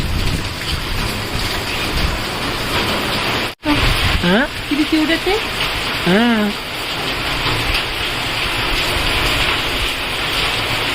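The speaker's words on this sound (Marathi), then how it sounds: "बाहेर पाऊस सुरू आहे" Steady hiss of rain falling, with a brief dropout partway through and a few short spoken remarks over it.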